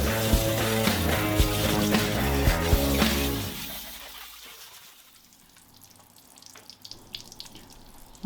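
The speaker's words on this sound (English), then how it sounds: "Go in with the hose and rinse off as much of the leftover grime as I can." A hose sprays water across the grimy interior floor of a van, a loud steady gush for about three seconds that then drops to quieter spattering and dripping.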